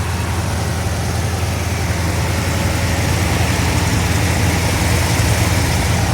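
A freshly rebuilt 389 Tri-Power V8 in a 1965 Pontiac GTO idles steadily at close range, a loud, even low rumble that holds for several seconds with no talk.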